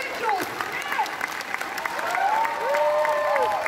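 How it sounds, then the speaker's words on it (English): Audience applause mixed with cheers and whoops greets a film panel as guests walk out, building louder toward the end. "give a big, very noisy, very large round of applause"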